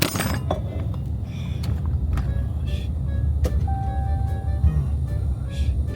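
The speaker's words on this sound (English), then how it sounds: "the camera went flying, careening off of the dash of the truck" A DJI Osmo Pocket 3 camera flies off a truck dashboard and clatters onto the floor, with a sharp knock and a few rattling clinks heard over the steady rumble of the moving truck.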